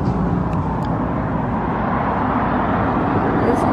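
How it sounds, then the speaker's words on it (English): Cars rush past on a busy road beside a small roadside parking area near Bridport, a continuous, fairly loud traffic roar with no distinct gaps between vehicles. "you won't be able to hear me because of all the cars going by"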